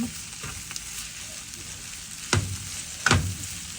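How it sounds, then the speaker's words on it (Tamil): Onions for a sweet onion sambal sizzle and fry steadily in a pan, with a couple of louder stirring scrapes near the end and no talking. "பொன்னிறமாக வதங்கிட்டு கட்டத்தூளை போடுவோம்"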